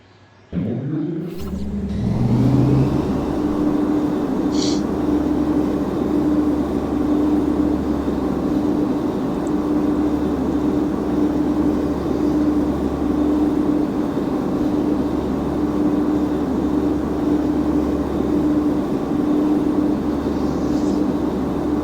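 A small vehicle driving in the video game Planet Arkadia, a steady loud engine drone with a low rumble that starts abruptly and holds unbroken for about twenty seconds.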